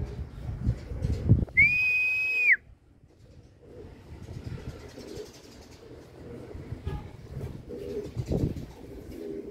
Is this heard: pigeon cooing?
yes